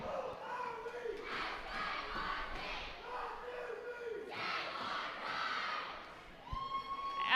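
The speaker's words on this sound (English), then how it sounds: "Currently cheering, I don't want to interrupt." Crowd at a junior roller derby playoff game cheering and shouting in waves, loud and sustained, with a brief lull before swelling again.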